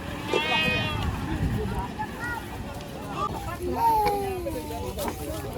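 Goats at a livestock market during Eid al-Adha bleat several times in wavering calls amid outdoor crowd chatter and people talking nearby.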